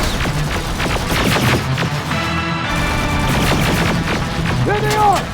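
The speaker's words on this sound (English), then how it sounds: "Under heavy fire!" Heavy gunfire in the video game Terminator Resistance, dense overlapping shots and bursts rolling through the whole stretch, loud and close, with a sharp sweeping electronic whine near the end.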